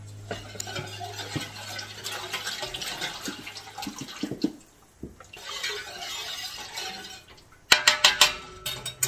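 Beef broth poured into a cooking pot for stew, a continuous close splashing pour with some clinks of a small whisk and utensils against the pot near the end.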